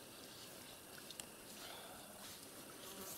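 Mosquitoes at a lakeside, a faint, steady high-pitched buzzing close around, very quiet with no talk.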